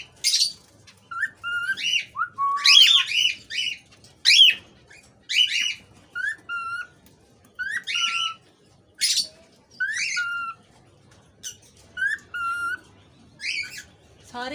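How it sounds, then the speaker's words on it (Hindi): Pet parrots whistling the same learned tune, with repeated bright, rising and falling whistles and chirps in short bursts, close and loud, separated by brief pauses over a quiet background. "सारे एक ही सीटी बजाना"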